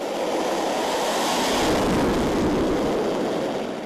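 Su-35S fighter jet accelerating down a runway on takeoff, a steady loud broadband roar with a swelling rush that peaks midway and holds, with no voices.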